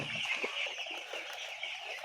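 Broiler chickens kept on a raised slatted platform farm, a faint dense chorus of clucking and chirping from many birds, continuous and moderately distant.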